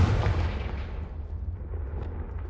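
A Confringo spell blast in the Hogwarts Legacy video game, a dense explosive burst loudest at the start that rumbles and slowly tails off without any talk.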